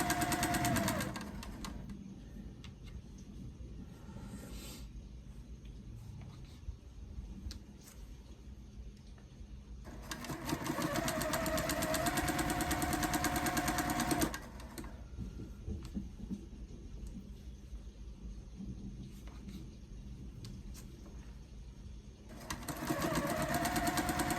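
A sewing machine stitching scrappy fabric for mini flying geese quilt blocks, running in two sustained loud bursts with a quieter humming pause between them, and starting up again at the end.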